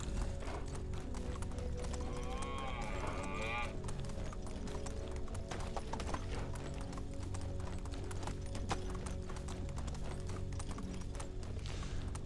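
A horse is ridden in the medieval game Medieval Dynasty, its hooves clip-clopping in a steady rhythm across the whole stretch under a constant background ambience, with a brief whinny-like tone partway through.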